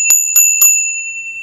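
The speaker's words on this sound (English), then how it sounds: "A bell has to have a decent tone as well as being interesting" A small celebration bell decorated with storks and lions is struck three times in quick succession, each clear ringing tone sustaining and slowly fading, close and alone.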